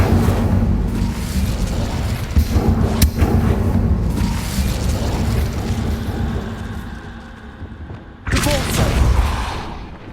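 The Incendio fire spell is cast in Hogwarts Legacy: a heavy booming burst with rumbling low end, a sharp crack partway through, then a fading tail and a second strong fiery blast near the end.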